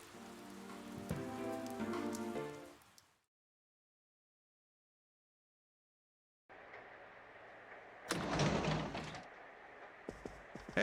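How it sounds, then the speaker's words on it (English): Rain falls through the night in the Persona 4 Golden game, a soft steady patter of drops that cuts out to silence for a few seconds, then returns with a louder burst and some scattered taps. "it looks like the rain will keep up all night"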